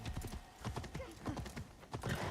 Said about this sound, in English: I'm gonna call my horse because why not?